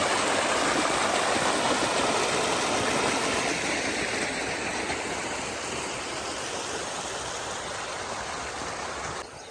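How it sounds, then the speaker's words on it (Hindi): A swollen drain rushing with floodwater after heavy rain, a loud, dense, continuous roar of flowing water filling the whole clip with no voices. "आज नाले में काफ़ी ज़्यादा पानी है जी।"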